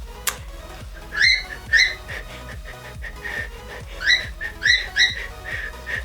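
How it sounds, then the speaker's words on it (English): A pet bird whistles in short bright bursts, two quick phrases early and a cluster later, over steady background music with a rhythmic beat. "Hear my bird whistling to me?"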